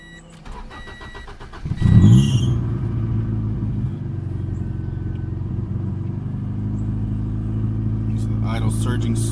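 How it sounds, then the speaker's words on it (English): A troublesome Acura Integra cranks briefly and catches, then settles into a loud, steady idle that holds high and surges, heard close up with no talk over it. "Idle surging super high."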